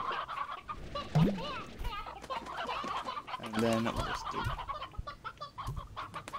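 Stony hens in Slime Rancher cluck in short, scattered bursts, a couple of them louder and nearer, while someone talks over them.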